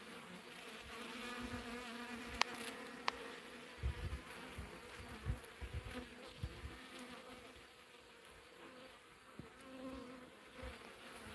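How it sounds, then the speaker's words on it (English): Busy bees buzz around a homestead in a continuous, fairly quiet hum, with scattered small clicks and knocks over about eleven seconds and no talking. "one more shot of these busy bees that eventually I'm going to have"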